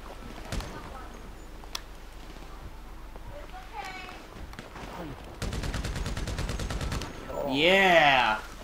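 Burst of rapid automatic gunfire from GTA 5 Online during a twelve-player deathmatch at a dockyard, a steady rattle lasting under two seconds amid scattered single shots, with voices heard before and after.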